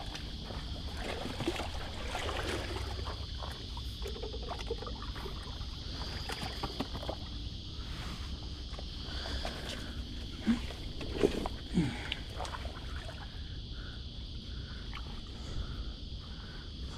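A small boat scrapes and knocks as it is beached on a mangrove shore, with water lapping and a few sharp bumps near the end, no talk.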